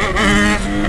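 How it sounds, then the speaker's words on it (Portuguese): A Yamaha XJ6 motorcycle engine roars loudly up close, its revving pitch rising briefly with a harsh, buzzy tone, and no speech. "Essa moto berra muito!"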